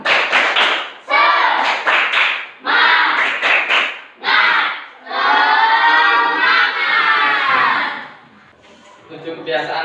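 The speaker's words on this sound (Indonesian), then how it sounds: "Tepuk semangat." A fifth-grade class of children in an Indonesian school stands and claps in a loud, rhythmic pattern while chanting together in unison, with short pauses between the bursts of claps.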